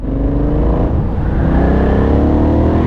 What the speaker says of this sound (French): J'aime beaucoup le caractère moteur de cette moto